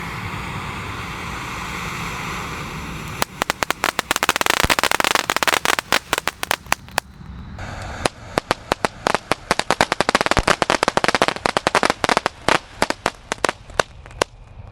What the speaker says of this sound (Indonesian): Menyalakan banyak sekali mercon petasan.